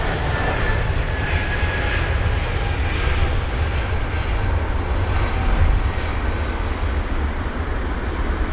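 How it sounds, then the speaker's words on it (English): A British Airways Airbus A320neo taxis at Heathrow, giving off a steady low engine rumble and broad hiss that stays even and fairly close throughout, with a faint high whine on top. "And on the move is this BA 320."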